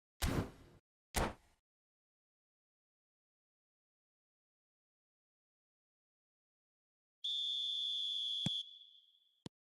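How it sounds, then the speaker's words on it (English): A referee's whistle in the eFootball video game sounds the start of the second half as one long, shrill, steady blast that fades out, coming after a couple of short thumps and a stretch of silence. "There's the whistle then to start the second half."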